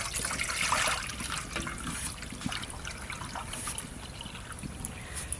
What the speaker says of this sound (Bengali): এইটা মেপে আমি জল দিচ্ছি